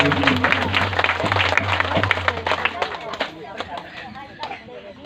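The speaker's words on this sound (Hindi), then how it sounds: "जोरदार ताली बजाए।" A congregation at a Hindi-language Christian testimony gathering claps in a burst of applause that thins into scattered claps, with voices and crowd babble underneath.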